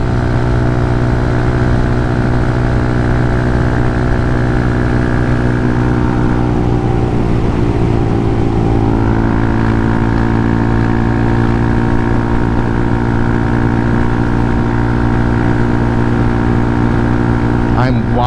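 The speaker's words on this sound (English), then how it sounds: "I'm wide open throttle in 5th right now." A Hawk 250 motorcycle engine at wide open throttle in fifth gear gives a loud, steady droning hum with strong wind rush, holding nearly constant pitch and dipping briefly midway.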